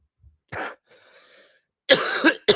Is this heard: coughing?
yes